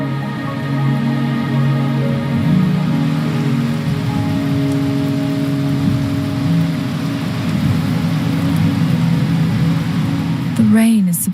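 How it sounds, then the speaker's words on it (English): Steady rain pours on surfaces in Wuthering Waves, a dense continuous patter with low rumbling underneath, while a voice speaks over it throughout. "The rain is subsiding, and the sky will soon clear."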